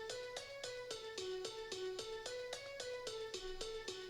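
Layered kalimba, steel drum and hang drum percussion play a steady pattern of bright, ringing pitched hits, evenly spaced about three per second, close and clear with no voices.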